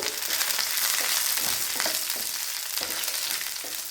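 Green chillies sizzle and crackle steadily in a hot pan of oil while a pickle is being made, a constant close frying hiss with small pops throughout.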